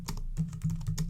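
Computer keyboard typing in a quiet room, a steady run of soft clicking keystrokes with short irregular pauses, close and fairly faint, no voices.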